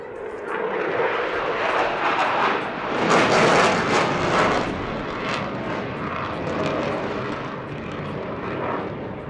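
A delta-wing jet with canards flying a display at the 2022 Eastbourne International Airshow, a sustained loud roaring rumble that swells and eases as it passes, with only a faint voice.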